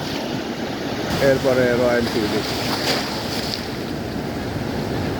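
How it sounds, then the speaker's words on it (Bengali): Surf rolls steadily onto Inani beach in a broad, constant wash with gusts of wind across the microphone, while someone speaks briefly over it. "সমুদ্রের ঢেউ, সমুদ্রের গর্জন"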